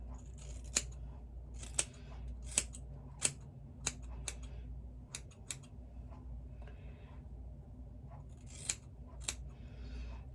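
Scissors snip through hair at home in a series of crisp, sharp clicks, some spaced apart and a few in quick pairs, close and clear over a low steady background hum with no talking.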